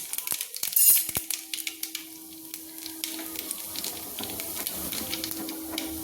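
Black cumin seeds dropped into hot oil already used for frying eggplant, for a small-fish curry: sharp crackling pops burst out first, then settle into a steady, close sizzle.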